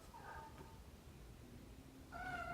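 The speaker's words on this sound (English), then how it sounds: "I think you're gonna hear it meow." A cat meows twice, close but fairly quiet: a short mew near the start and a longer, higher meow at the end, against a low background hum.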